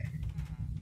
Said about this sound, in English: Sheep, a sheep, sheep.